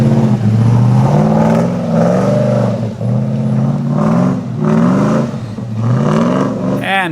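A stroked LS V8 in a chopped extra-cab Nissan GQ Patrol labours up an off-road track, its deep engine note rising and falling in repeated surges of throttle, loud and close, with occasional clatter from the rough ground.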